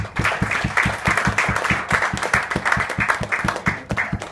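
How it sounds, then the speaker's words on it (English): An audience at a professional community forum applauds in a steady burst of clapping, many hands blending into a dense, even patter at close range. "So, a big round of applause."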